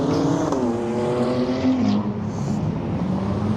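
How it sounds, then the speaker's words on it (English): A Ferrari race car on the Sebring track, with an engine swap, roars past close by in a loud, sustained engine drone that shifts in pitch as it passes, no talking. "So there goes the Ferrari, EK."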